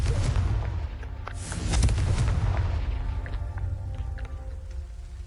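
A Confringo fire spell in Hogwarts Legacy bursts into a loud, booming explosion, with a sharp blast swelling near the two-second mark and rumbling debris trailing off into quieter crackles.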